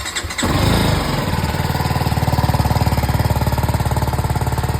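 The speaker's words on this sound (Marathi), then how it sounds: "बाईकला चालू केली ना कोल्ड स्टार्टवर ठेवली 5 मिनटं." A motorcycle, unridden for several days, is started cold with a brief crank, then settles into a loud, close, steady rhythmic idle.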